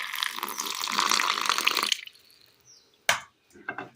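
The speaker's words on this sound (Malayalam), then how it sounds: "വെള്ളം ഒരല്പം." Water poured from a vessel into a bowl of flour mixed with salt, curry leaves and oil, a bright splashing stream for about two seconds, then a brief drip, a thud and a few small knocks.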